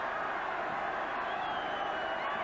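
A stadium crowd roars continuously at a 1987 All Blacks versus Wallabies Bledisloe Cup rugby test match, a dense sustained wash of distant cheering with no break.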